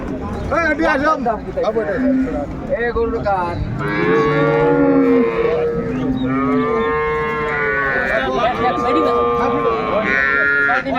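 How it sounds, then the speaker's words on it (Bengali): Dairy cows and calves moo repeatedly at a busy cattle market in Jessore, their long, loud, close lowing calls overlapping one another almost without pause. "গাভী বাছুর"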